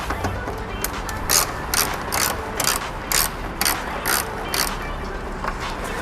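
Ratchet wrench loosening the grille bolts on a car during an engine-out Barra build, a steady series of close, loud rhythmic clicking bursts.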